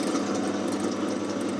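A centre drill spotting a hole on a metal lathe, a steady even whir of the spinning spindle and cutting, close and continuous with no talk.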